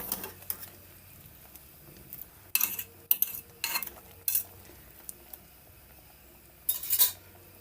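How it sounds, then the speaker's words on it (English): A spoon stirs stew beef in a pot for Jamaican-style rice and peas, giving scattered metallic scrapes and clinks in uneven bursts, moderately close, with a soft background hum and no talking. "Giving it another stir."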